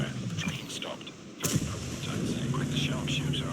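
A single heavy tank cannon blast in World of Tanks, sharp and booming, followed by a rumbling mechanical hum and engine drone.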